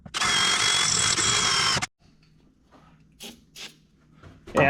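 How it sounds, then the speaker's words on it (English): A close power drill whines loudly for about two seconds while drilling into a Chevrolet S10 pickup's fuel system, then stops, leaving quiet handling noises and a few faint bumps. "let's get the drilling started"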